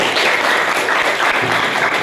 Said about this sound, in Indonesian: Tepuk tangan sekali lagi buat ketua.